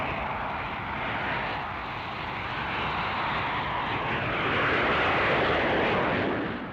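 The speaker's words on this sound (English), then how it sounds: "This student has taken off for his first solo transonic dive." A Hawker Hunter jet trainer flies a solo transonic dive, giving a broad, steady roar that slowly swells and then fades slightly, with no talk over it.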